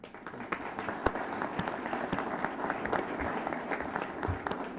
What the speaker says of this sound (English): we applaud Andrew for a job well done